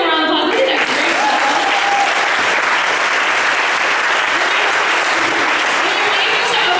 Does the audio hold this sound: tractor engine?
no